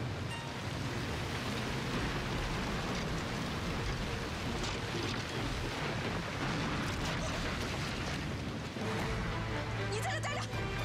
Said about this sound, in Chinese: 下雨了，收书啊。